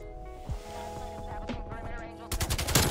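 Rapid automatic fire from a modified Krig 6 rifle in Call of Duty: Black Ops Cold War, a quick run of close, loud shots surging at the end amid game noise and voices.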